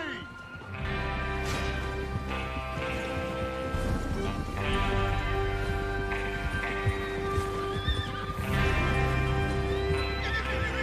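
Horses whinny and hooves clatter in a galloping rhythm over a busy, continuous background, with voices talking intermittently, in the video game Red Dead Redemption 2.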